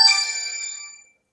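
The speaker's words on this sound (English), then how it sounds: "That was a phone call." A phone rings once with an incoming call, a bright electronic chime that starts sharply and fades out within about a second, clear and close with no voices.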